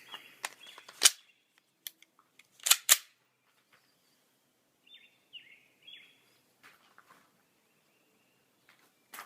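Sharp gunshots from an FN 5.7 pistol firing hot loads, a few isolated cracks with short gaps between them, followed by fainter clicks and small sounds, with no talking.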